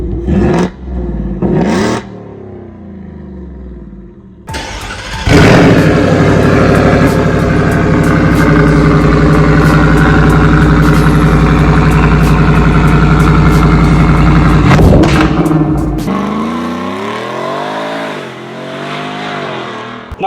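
Stage 2 Ford F-150 pickup with a Corsa Extreme exhaust: short sharp revs at first, then a long, loud, steady engine drone, another burst, and a settling idle with a falling, rumbling note.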